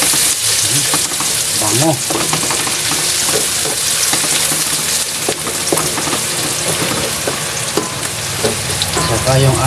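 Ginger sautéing in hot oil with garlic and onion in a pan: a loud, dense, crackling sizzle with stirring scrapes, continuous and close, with a brief word spoken over it.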